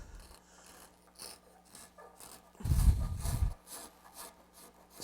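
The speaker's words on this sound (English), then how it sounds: "And now with this French curve card scraper, I can get right up in there and just clean up that" A French curve card scraper draws across the curved edge of an end grain wood cutting board, giving a dry rasping scrape that swells into a louder burst midway, with quieter faint scuffs before and after.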